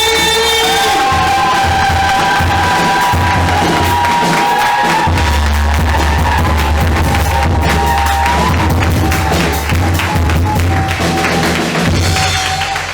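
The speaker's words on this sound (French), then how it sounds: "Acclame pour Jésus." A church congregation loudly cheers and acclaims Jesus, a dense crowd roar with whoops and clapping rising over sustained music from an organ or keyboard, close and continuous throughout.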